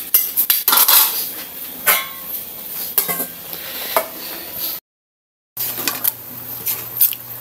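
A pan of lechon manok-style chicken is handled and covered with its lid, making close metallic clatters and scrapes with a faint sizzle beneath and a short silent gap.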